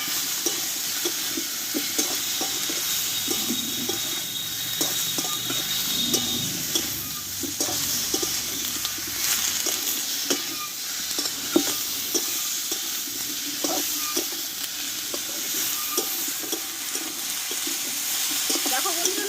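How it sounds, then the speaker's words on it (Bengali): Potatoes with salt and turmeric frying in a pan for a Bengali potato and pointed gourd curry, a continuous close sizzle broken by repeated spatula taps and scrapes as the mixture is stirred. "লবণ হলুদটা দিয়ে আমি একটু কষিয়ে নেবো"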